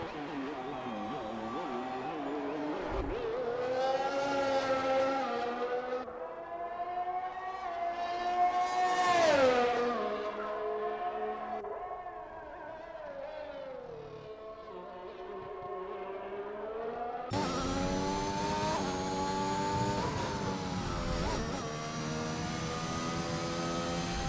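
A race car engine in a racing video game screams through a flying lap at Bahrain with DRS open down the pit straight. Revs climb and drop in loud, steady sweeps with gear changes, and a commentator talks throughout.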